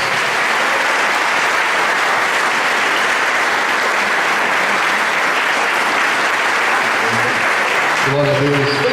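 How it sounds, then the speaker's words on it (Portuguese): A church congregation claps loudly and continuously in sustained applause, filling the room, with a voice briefly speaking near the end. "Vamos receber, aplaudindo bem forte o nome de Jesus."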